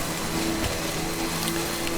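Steady rain in the video game Death Stranding, a continuous even hiss with soft patter and a faint low hum underneath, alone with no talk.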